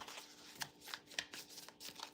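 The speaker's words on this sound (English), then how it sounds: "I feel like I'm shuffling super lazy too." Oracle cards being shuffled by hand during a live spiritual card reading, a run of soft papery riffles and slaps with several louder bursts, close and fairly quiet, with no talking.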